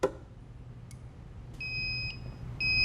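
A fire alarm panel sounds its supervisory signal: after a brief faint beep, high electronic tones repeat in short, quick pulses, fairly loud and clear against a quiet room hum.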